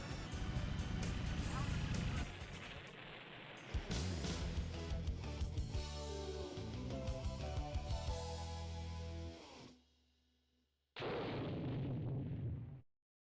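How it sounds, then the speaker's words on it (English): An aircraft crashes in the Ace Combat 2 video game: loud rumbling bursts and explosion-like blasts, then a sudden cutoff and a short final burst, with a person talking over part of it. "somehow the victory screen crashed my aircraft"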